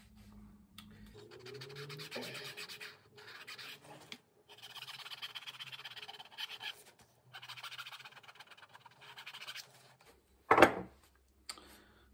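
A rasp files the leather heel of a shoe in repeated scraping strokes, bursts of dry rasping separated by short pauses, ending with a sharp knock and a final scrape.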